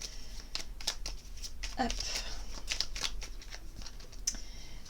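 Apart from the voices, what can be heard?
shuffling and drawing oracle cards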